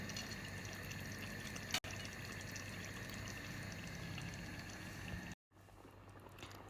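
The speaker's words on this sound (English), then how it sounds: "I'm just adding a little bit of water just to help it steam properly." Water poured into a pan of simmering fish curry, a steady continuous splashing and bubbling hiss that runs close and fairly loud, with a brief clatter and a short break near the end.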